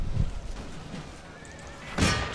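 Cavalry horses in the battle game Empire: Total War, with a short neigh near the start and another louder whinny-like burst near the end over a rumbling background of battle noise.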